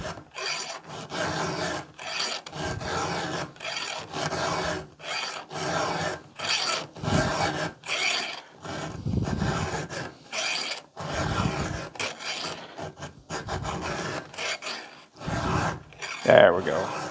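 A file sharpening chainsaw chain teeth, close, rhythmic rasping strokes repeated about a dozen times with short pauses between, and a faint voice briefly heard near the end.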